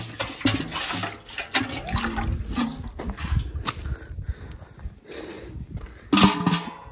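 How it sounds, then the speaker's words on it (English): Water splashes and pours while something is rinsed outdoors during a rural weekend in a village, a continuous, uneven wash of liquid sound that swells and dips, with a louder surge near the end and no talk. "let's rinse this"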